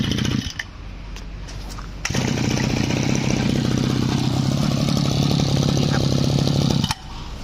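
A used Japanese Mitsubishi TL26 brush cutter engine runs close by, starting rough and then settling into a steady, buzzing two-stroke drone for several seconds before cutting off.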